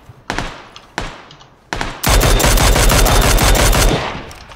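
Gunfire from behind in the tactical shooter game Squad: a few separate single shots ring out first, then sustained automatic fire rattles loud and continuous for over two seconds, with no talk.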